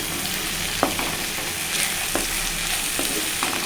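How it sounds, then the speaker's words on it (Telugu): Tomato pieces are stirred in a frying pan over a low gas flame for senaga pappu kura, with a constant close sizzle broken by a few sharp scrapes and taps of the spoon. "టమాటా ముక్కలు వేసుకోవాలండి ఇప్పుడు కలుపుకోవాలి"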